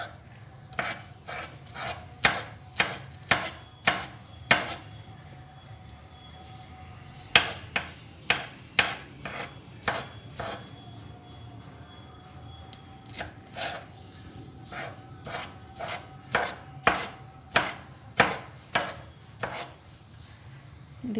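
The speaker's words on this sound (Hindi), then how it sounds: "3-4 अदद मैंने सब्ज़ मिर्च ली है, उसे भी इस तरह से कट कर लूँगी और इसमें हैंड चॉपर में इसको डाल के अच्छी तरह से हम चॉप कर लेंगे" Green chillies chopped in a hand-pull food chopper come through as fast bursts of sharp rasping clacks, each pull quick and even. The bursts come in three runs separated by brief pauses, close and moderately loud, with no talking.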